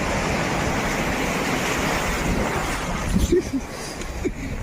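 Sea waves wash against Digha beach in a steady broad roar mixed with wind buffeting the microphone, with a few faint voice-like sounds near the end.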